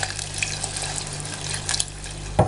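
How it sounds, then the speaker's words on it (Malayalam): Water runs from a tap into a cooking pot for ash gourd moru curry, a steady splashing fill with a low hum beneath and a brief louder clunk near the end. "വെള്ളം ഒരുപാട് വേണ്ട, ഇതൊന്ന് നികത്തി വെള്ളം മതി."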